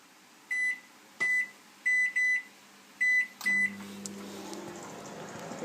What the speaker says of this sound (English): And there you go, straight in the microwave.